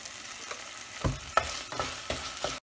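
Tomato cooking in a pan for a Chettinad-style shrimp fry, a soft sizzle broken by a few scraping stirs of the spatula, close and brief with no talking.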